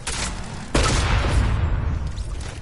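A Peroxide Grenadine Launcher fires in a video game: a steady hiss, then a sudden loud blast that leaves a sustained rumbling wash behind it, close and with no talk.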